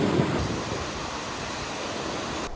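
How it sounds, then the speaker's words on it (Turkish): A large waterfall in the Altai mountains roars as a steady, dense broadband rush, loud and close, with no speech over it. "Müthiş bir şelale müthiş."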